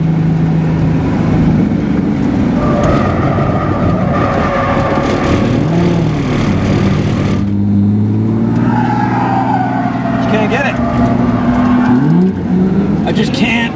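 A drift car works through understeer at an import show, its engine revving and droning loudly and continuously up close with rising and falling pitch, tyre noise mixed in.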